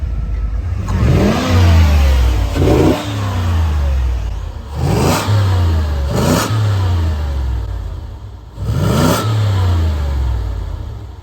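A Guanci SSJ prototype car engine revs repeatedly as it drives past, rising and falling in bursts over steady road noise, loud and close.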